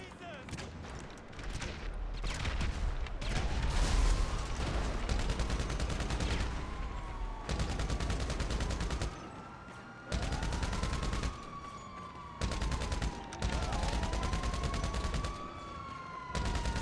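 Bursts of rapid gunfire rattle through a GTA Online PvP fight, with repeated loud volleys broken by short pauses and rising sirens wailing underneath.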